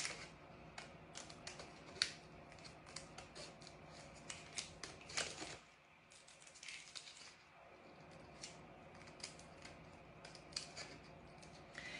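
Small scissors snip pumpkin shapes out of a thin adhesive plastic sheet, with quick, close, crisp clicks in irregular bursts, a short quiet pause partway through, and no talking.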